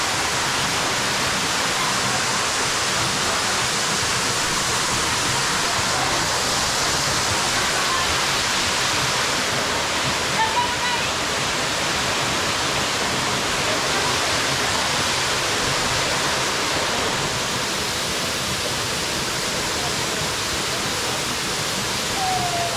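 A river swollen by the previous night's rain rushes loudly and continuously on a hiking expedition, a dense even roar of flowing water with no speech.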